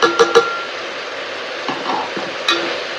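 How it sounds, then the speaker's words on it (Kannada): Mushrooms fry in a pan with chilli powder, coriander powder and turmeric, a soft sizzle broken by a few sharp spoon scrapes and taps as they are stirred, with no talking. "ಮಶ್ರೂಮ್ನ ಹಾಕಿ ಸ್ವಲ್ಪ ನಿಧಾನಕ್ಕೆ ಫ್ರೈ ಮಾಡ್ತಿದ್ಮೇಲೆ ಸ್ಪೈಸಸ್ ಹಾಕ್ತಾಯಿದ್ದೀನಿ"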